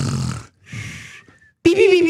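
A person imitates snoring with a couple of breathy, rasping inhale-exhale snores, close up, followed by a voiced sound.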